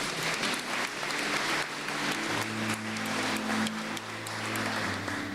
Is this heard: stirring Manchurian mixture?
no